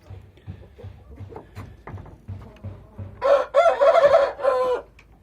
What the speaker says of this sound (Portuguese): Aí os franguinhos que estão fechados.